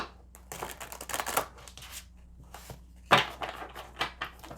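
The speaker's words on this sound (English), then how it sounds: "I'm gonna shuffle 3 of these out for you guys." Tarot cards being shuffled by hand during a pick-a-card reading, with several bursts of crisp riffling and slapping close to the mic, separated by short quiet gaps.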